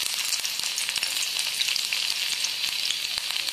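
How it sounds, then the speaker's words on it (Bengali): Chopped garlic fries in a hot wok with a steady, bright sizzle and crackle, constant and close, with no talking. "আমি কড়ার মধ্যে রসুন কুচিটা দিয়ে দিচ্ছি"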